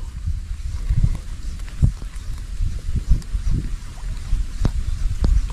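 Wind gusting around an airgun fishing trip on the water, a steady low rumble with buffeting bursts against the microphone, moderately loud throughout with small knocks mixed in.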